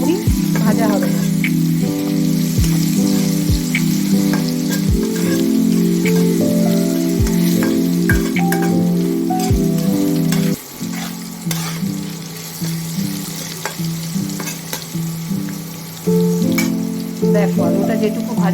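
Potatoes fry in hot oil in a pan, half-cooked for a shrimp and taro stolon dish, with a loud continuous sizzle and periodic scraping stirs. A voice speaks over it at times.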